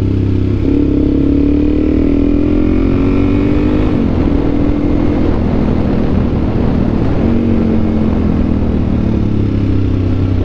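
A Suzuki DRZ motorcycle rides a rough road through Watagans National Park, its engine droning steadily and loudly throughout with rising and falling pitch as it shifts and changes speed, and wind noise over everything.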